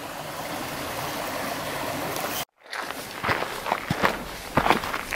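Footsteps pick across rocks during a river crossing on a hiking trail, irregular close steps with scrapes and knocks over a steady rush of flowing water, broken by a brief dropout.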